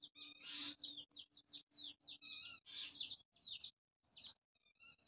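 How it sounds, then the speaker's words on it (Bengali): Common mynahs and crows call close by in a home yard, a busy run of sharp chirps and squawks in quick bursts with short gaps, fairly faint overall and no talking. "ওই যে দুটো শালিক পাখি, কাকও চলে আসছে"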